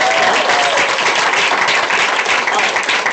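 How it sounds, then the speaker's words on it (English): A crowd at a Saturday training session breaks into loud, dense, sustained applause, a steady wash of many hands clapping close by with no talking. "Can we give her a big round of applause?"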